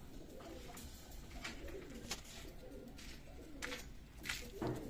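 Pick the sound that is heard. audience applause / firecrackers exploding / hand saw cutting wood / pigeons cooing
pigeons cooing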